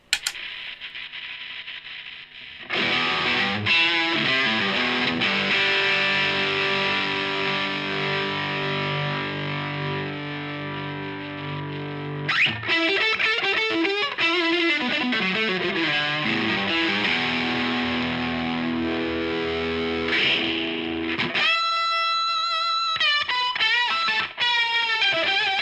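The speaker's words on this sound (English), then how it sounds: "it's not fuzz, it's like an overdrive with octave up." An electric guitar runs through a Jupiter overdrive pedal set to low gain with an octave-up voice, playing sustained distorted chords and notes with a brighter, higher octave-doubled passage near the end.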